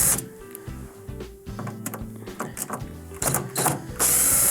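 A powered screwdriver backs out number 2 Phillips screws from the panel of a Whirlpool microwave, giving a close, loud ratcheting whir in short bursts with gaps between, and a harsher clattering buzz near the end.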